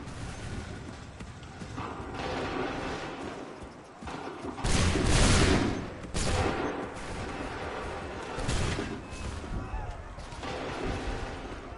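Musket volleys in Assassin's Creed 3 erupt as loud, broad booming blasts, one big roar around the middle followed by a couple more bursts, over a continuous din of battle noise.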